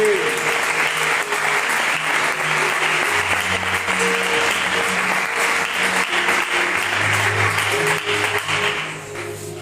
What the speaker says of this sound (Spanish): ¿Cuántos pueden darle un aplauso a su palabra?